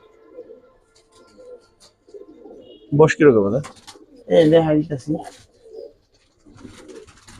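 Pigeons coo in a pair of low, warbling bursts at a Bangladeshi pigeon seller's, with faint cooing in the background and someone speaking briefly nearby.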